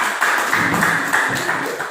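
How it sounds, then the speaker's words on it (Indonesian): A class applauds a student group after its presentation, with dense, continuous clapping from many hands at a fairly loud, close level for a couple of seconds. "Tepuk tangan untuk kelompok 2."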